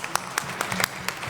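Scattered hand claps from an audience at a choir and theatre show, brief and fairly faint, with a few sharp claps standing out over low murmuring.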